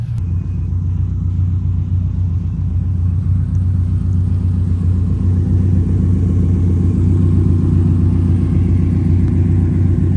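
Two cars, one a Subaru STI, idle together at a car cruise in a loud, close, continuous low engine rumble that stays steady throughout without revving.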